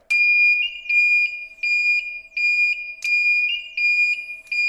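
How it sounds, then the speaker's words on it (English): A motorbike indicator's flasher unit sounds a shrill electronic beeping in a steady on-off rhythm, about six loud chirps close by, buzzing with each flash. "We've got a sounding flash unit on it."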